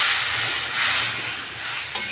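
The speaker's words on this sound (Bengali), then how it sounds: "এই যে বন্ধুরা তেজপাতা ফোড়ন দিলাম, আর ওই একটা মশলা করে নিয়েছিলাম।" A loud, close, continuous sizzle as bay leaf and a spice paste of tomato, ginger, green chilli and cashew fry in hot oil, with a brief stir at the end.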